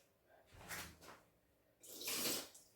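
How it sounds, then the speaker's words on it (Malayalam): Water runs into a cooking pan on a stovetop in two short splashing bursts, the second brighter and louder, with quiet gaps between. "കുറച്ച് വെള്ളം പാനിനകത്ത് വെച്ചു"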